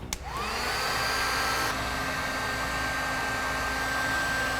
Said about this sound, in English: Watch when I hit it with the heat gun.